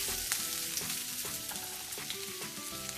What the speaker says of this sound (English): We're going to cook on very high flame.